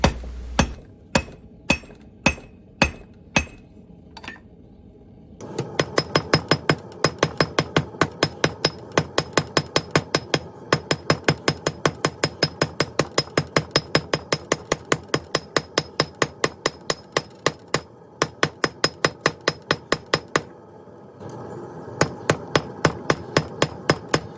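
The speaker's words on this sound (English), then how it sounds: "Just keep rotating it and keep hammering it" A blacksmith hammers hot, narrow metal on an anvil while shaping a wall hook, first a few slow separate blows, then a long fast steady run of ringing strikes, close and loud with a brief pause near the end.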